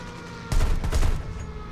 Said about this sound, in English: That 37mm cannon doing what it does best